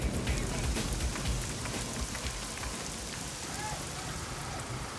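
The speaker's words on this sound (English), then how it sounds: "Then the rain comes, so we have to work with the rain, and it's coming down quite hard." Heavy rain pours steadily onto a house construction site, a dense continuous hiss and patter that stays loud and even throughout, with no voices.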